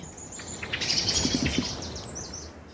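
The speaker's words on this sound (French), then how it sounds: "voici un accenteur mouchet" A dunnock, or hedge accentor, gives thin, high, rapid chirps from willow cover in woodland on Ouessant. The calls come in short bursts over steady, faint background hiss.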